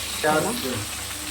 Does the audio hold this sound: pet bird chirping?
no